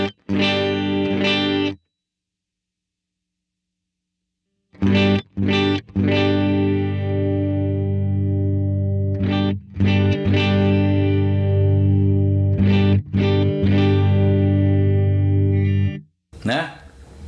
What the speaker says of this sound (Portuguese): Olha o som como ficou magrinho, sem grave.